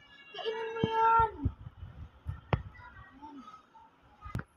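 A cat meows at feeding time, one long drawn-out call up close followed by a few short chirps, with other small clatters in between.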